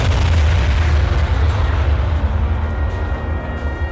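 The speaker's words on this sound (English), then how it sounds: "grabbed a rocket launcher and destroyed one of the shuttles that the Coalition had came from" A shuttle blown up by a rocket launcher in a sci-fi battle, a loud sustained explosive roar with deep rumbling low end, close and filling the whole moment.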